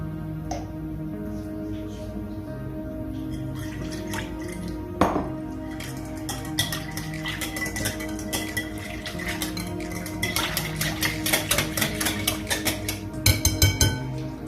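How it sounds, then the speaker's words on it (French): Turkish bread dough ingredients being mixed with oil in a bowl, with scattered clinks and scrapes of a utensil against the bowl that grow busier and wetter toward the end, close and moderately loud. "je mélange. Je rajoute l'huile."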